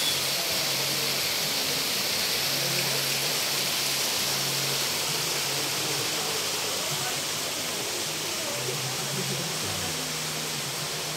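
Kakawayan waterfall in Infanta, Quezon, a steady broadband rush of falling water filling the whole clip at close range, with faint low voices under the roar.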